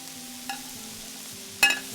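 A spoon stirs vegetables and protein in a frying pan, with two sharp scrapes against the pan over a faint steady sizzle.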